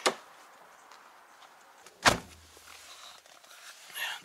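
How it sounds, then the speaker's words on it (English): A Jaguar car door swings shut with one solid, heavy thunk, preceded by a fainter click and followed by quiet cabin noise and a soft rustle, with no talk. "The door's shut with a really solid feel."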